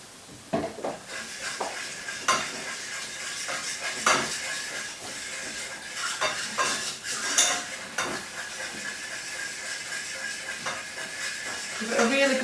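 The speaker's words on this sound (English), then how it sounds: "Give it a really good whisk because I don't want any lumps in there." A whisk clatters steadily against a pan while sauce is beaten smooth for a chicken and leek bake, with milk added. The scraping and tapping is close and continuous, with a soft hiss beneath it and occasional sharper knocks of metal on metal.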